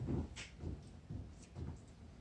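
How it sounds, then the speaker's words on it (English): Knocking sound effect in a stage play set at Dunsinane Castle: four heavy, evenly spaced thuds at moderate loudness, with no voices over them. "Whence is that knocking?"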